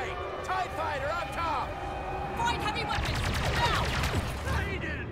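Blaster gunfire in the video game Star Wars Battlefront 2 rattles off in dense bursts alongside whooshing effects and background game sounds, growing into a rapid volley near the end.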